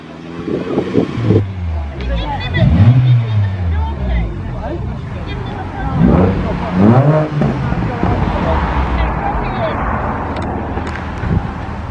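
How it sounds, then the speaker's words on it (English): Car engines at a car meet rev loudly in repeated rising and falling sweeps, close by, with crowd chatter and voices murmuring underneath. "These two guys are revving a bit."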